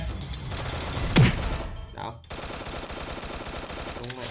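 Rapid gunfire from the Free Fire battle royale game, with bursts and shots crackling throughout under a steady game soundscape and a loud close shot near the middle.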